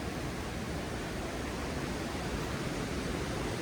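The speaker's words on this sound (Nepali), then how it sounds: "खोलाको आवाज सुनिन्छ" A mountain stream on the trail to Kanchenjunga Base Camp rushes in a steady, dense, broadband wash that holds at an even, fairly loud level throughout with no other sounds.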